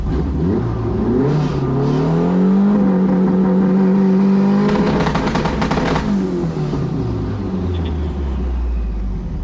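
A tuned turbocharged Honda Civic accelerates hard with rolling anti-lag, its engine note rising and falling through gear changes, with a loud, close rumble and popping bursts mid-run and no talking.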